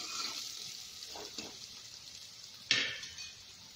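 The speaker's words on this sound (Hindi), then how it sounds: "चार से 5 मिनट तक मीडियम फ्लेम पे इसे भूनेंगे प्याज को।" Onions frying over a medium flame for a potato and soybean curry give a steady, fairly quiet high sizzle, with a few soft stirring scrapes and one sharper utensil clink near the end; no one speaks.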